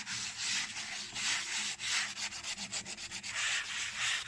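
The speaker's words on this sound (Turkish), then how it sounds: "Önce zımparalıyoruz çıtalarımızı." Wooden slats being sanded by hand for a tray, a steady rasping scrape in long back-and-forth strokes with short pauses, close and loud with no voices.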